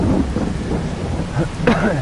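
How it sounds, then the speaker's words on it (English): Rain falling in the farming video game Farming Simulator 22, a steady loud hiss of rainfall with thunder rumbling underneath, no talk. "We also got all the rain that runs down and catches here."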